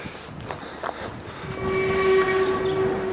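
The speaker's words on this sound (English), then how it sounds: "I think we've got a good sign that there's a train approaching" A Ffestiniog Railway narrow-gauge steam train, the Hunslet locomotive, draws nearer, its rumble building and a steady horn-like tone emerging and growing louder in the second half.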